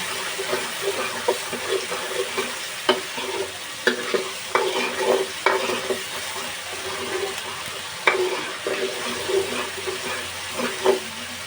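Ginger garlic paste sizzles steadily in a pan over a low flame while a spoon stirs it with sharp, scattered scrapes and clicks. Cooking for egg tikka masala.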